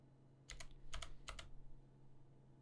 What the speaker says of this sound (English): I'm gonna press enter on my keyboard